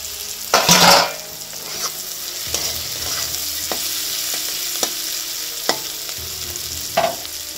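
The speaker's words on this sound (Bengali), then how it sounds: "আর এতে উচ্ছে ভাজাটা করছি।" Bitter gourd slices frying in a pan on a home kitchen stove, with a steady soft sizzle broken by loud stirring scrapes near the start and a few sharper utensil knocks later, no voices.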